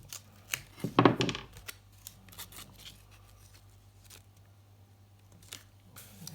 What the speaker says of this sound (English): cut it just a tiny bit short